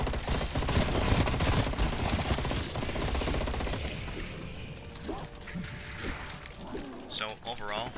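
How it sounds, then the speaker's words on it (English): FAMAS rifle fire rattles in rapid bursts in Cold War Zombies, dense and loud at first with mechanical clatter, then easing into scattered shots and game effects, while someone talks over it throughout. "I'd say the FAMAS really shreds the zombies in any game mode."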